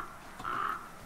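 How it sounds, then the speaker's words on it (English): In the survival video game The Flame in the Flood, a single crow gives one short, hoarse caw at moderate distance over a quiet background, with no talking. "don't forget to shoo the crows so we can steal their feathers"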